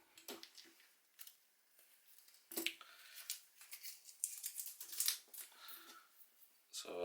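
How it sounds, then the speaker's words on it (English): Small curved scissors snip masking tape while painting a VFC MK48 build, giving a few short, crisp cuts and crinkles close to the mic, with quiet pauses between them. "I actually have a small curved scissors, which is in general the best scissor for this job."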